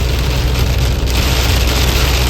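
Steady rain patters on a car throughout, a dense continuous hiss of drops on the body and roof, fairly loud and uninterrupted, with no voices.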